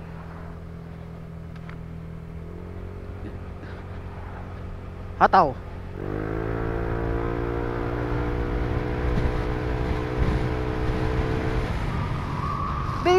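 Yamaha Nmax 155 scooter with a JVT Version 3 exhaust, not yet remapped, humming steadily while ridden, muffled by a closed helmet visor, then rising in pitch as it accelerates; a rider briefly calls out midway.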